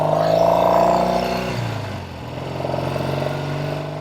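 A 1968 Triumph Bonneville 650 motorcycle with loud pipes, its engine droning close up and loud, pitch easing down mid-clip and then settling into a steady rumbling run.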